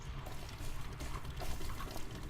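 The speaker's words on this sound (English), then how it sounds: "I've got much better water creek noises than this." Water creek noises in the Medieval Engineers video game, a continuous soft babbling and trickling of flowing water, steady and fairly faint, with no talk.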